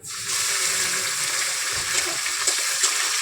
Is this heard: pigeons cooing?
no